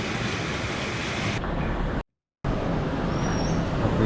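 Sea waves wash steadily onto the shore at Varkala early in the morning after a night of rain, heard from a sea-view resort room as a continuous broad roar with a brief silent gap partway through.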